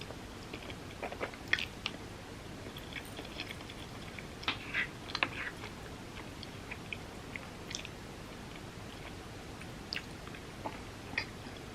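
Someone chews vegan Indian coconut korma close to the mic, with soft wet mastication and occasional light crunchy bites over a quiet background.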